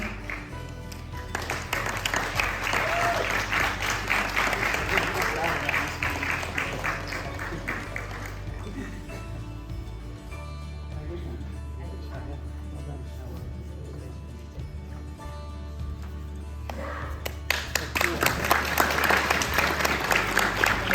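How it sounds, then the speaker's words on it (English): An audience applauds graduates of the College of Vedic Studies at ISKCON Leicester, with sustained dense clapping that fades partway through and then swells loudly again near the end. "Collective round of applause for all of the graduates."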